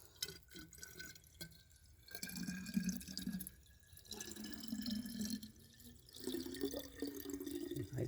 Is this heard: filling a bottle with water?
yes